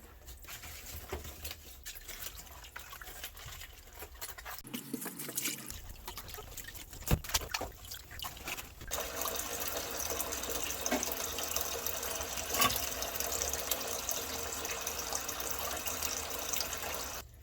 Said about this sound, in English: You just keep rinsing however many rinses it takes until your water runs clear.